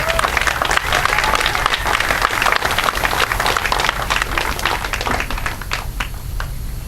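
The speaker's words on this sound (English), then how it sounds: "Please give a round of applause to Ms. Nicole Townsend." Sustained crowd applause at a solidarity demonstration in Waynesville, dense and steady clapping from many hands that fades slightly toward the end.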